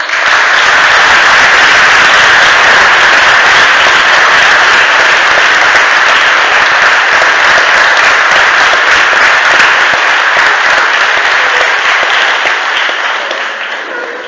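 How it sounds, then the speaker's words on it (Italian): Warm, sustained applause from a concert audience at a wind band performance, dense clapping filling the space loudly and evenly for the whole stretch before tapering slightly at the end. "accogliamo con un caloroso applauso"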